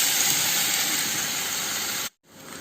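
Chopped banana pieces fry in ghee in a pan, giving a loud, even sizzling hiss that holds steady before cutting off abruptly for a moment and then resuming.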